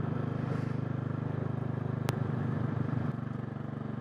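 Steady low engine drone of a Royal Enfield J-series motorcycle with a 410 big bore upgrade, heard while riding, with a brief sharp click midway and a slight drop in pitch toward the end.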